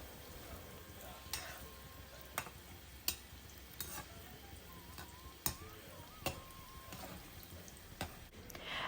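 Vegetable koftas fry in a pan of oil with a steady soft sizzle, punctuated by sharp pops and crackles at irregular intervals, close and quiet with no talk.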